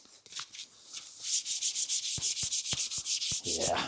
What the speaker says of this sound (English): So let's go up to 240 grit now.